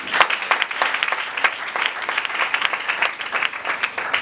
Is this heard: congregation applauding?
yes